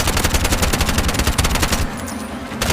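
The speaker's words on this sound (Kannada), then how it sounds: "ಮೇನ್ ಬಾಸಿಗೆ ಬೇರೆ ರೀತಿ ಬುಲೆಟಲ್ಲಿ ಶೂಟ್ ಮಾಡೋಣ" Rapid automatic gunfire from the video game Bright Memory Infinite, loud and continuous bursts that stop briefly before a final burst, with no talking.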